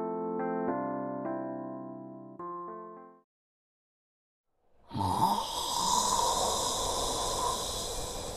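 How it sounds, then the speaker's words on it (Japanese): An animated character snores while asleep on someone's shoulder. A short run of tonal notes and a moment of silence come first, then a breathy, rasping snore continues steadily to the end. "こちらも元気ないびきだね。"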